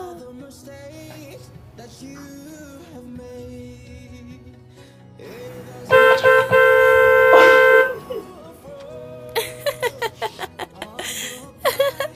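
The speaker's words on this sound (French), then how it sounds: "Ça klaxonne au portail." A car horn sounds at a gate in one long sustained blast, followed later by a quick series of short toots, with quiet voices and background noise between.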